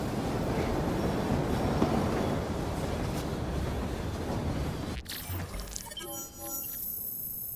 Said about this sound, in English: We fixed up the train for you.